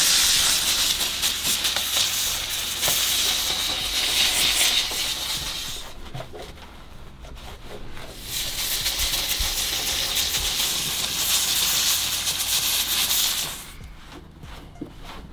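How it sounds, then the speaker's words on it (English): A steam cleaner hisses loudly while cleaning a cab being prepared for conversion, in long continuous bursts of several seconds broken by short pauses, close to the listener with no talking. "It's the first steam cleaner I've ever had."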